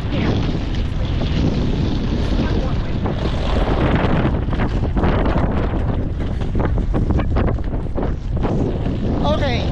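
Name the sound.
cold wind at Oakland airport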